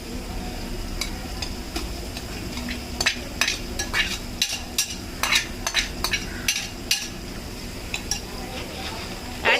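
Ginger garlic paste being stirred into onions in a pot for mutton biryani, with soft scraping and a few clinks of a spoon against the metal pot over a low sizzle, close and steady.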